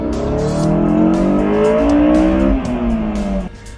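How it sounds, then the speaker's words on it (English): A 1999 Honda S2000's high-revving VTEC four-cylinder screams up through the revs nearby, its pitch climbing steadily before easing off and dropping away near the end. "This really is a great sounding engine."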